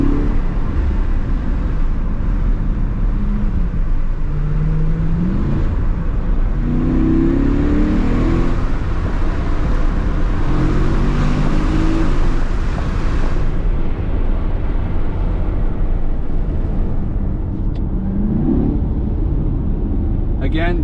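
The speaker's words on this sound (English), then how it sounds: "I'm gonna put the windows down and let you hear the exhaust." A 2025 Chevrolet Corvette E-Ray 1LZ exhaust in track mode with baffles open rumbles loudly and steadily from inside the car with windows down, revving in swells, with people talking over it.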